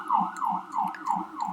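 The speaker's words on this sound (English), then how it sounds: "More sirens." Emergency sirens wailing in a repeating rise-and-fall pattern, several quick cycles at a moderate distance with no talk over them.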